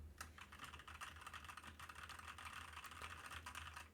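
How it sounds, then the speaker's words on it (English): Quiet, rapid clatter of keys on a computer keyboard, picked up by an Elgato Wave 3 microphone, continuous and busy with a faint background hum, with no one speaking. "I have my keyboard in here and I'm going to be typing"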